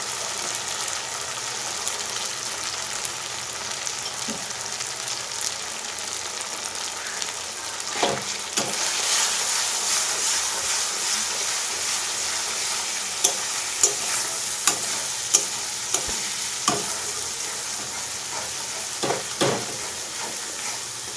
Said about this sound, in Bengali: মশলাটা কিন্তু খুব ভালো করে কিন্তু ভাজা হয়ে গেছে সে চলো এবার হলুদটা দিয়ে দেবো